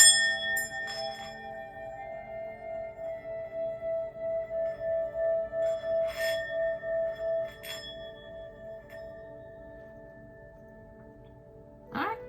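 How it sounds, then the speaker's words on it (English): A singing sound bowl is struck, ringing as a sustained bright tone with a pulsing shimmer that swells and slowly fades, close and alone, before a brief clink near the end. "A good clearing from our sound bowl"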